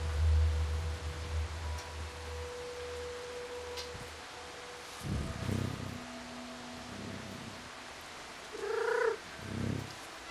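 A cat purrs and meows in the video game Stray, with a low rumbling purr up front, then a couple of short, close, tonal cries near the end over quiet ambient game sound.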